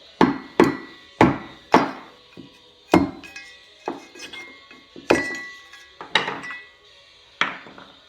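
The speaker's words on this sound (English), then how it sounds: "Just gonna force out this lower one with a screwdriver." A screwdriver is hammered to force out the lower steering wheel bushing on a Polaris RZR 800. About a dozen sharp metallic knocks ring out close by at an uneven pace, some with brief ringing tails, and no one speaks.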